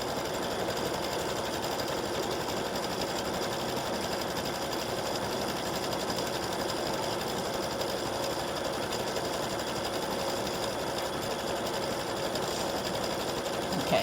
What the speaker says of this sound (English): stitch out on the side panels. The decorative background stitch.